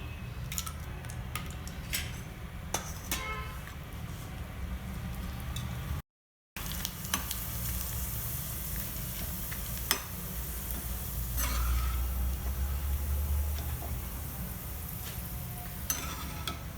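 Vadam fryums frying in hot oil make a steady, close sizzle with scattered crackles and ticks, broken by a brief gap of silence before the frying noise resumes.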